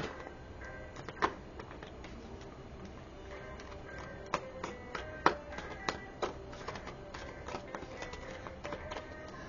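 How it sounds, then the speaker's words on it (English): Tarot cards being shuffled by hand, a run of soft papery taps and riffles with a few sharper clicks, close and fairly quiet, with no talking. "I like to shuffle until a card comes out"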